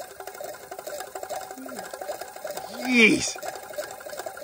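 A homemade tin can steam engine built to a 1963 design runs fast, giving a rapid, even mechanical chatter close by, and a man briefly exclaims over it.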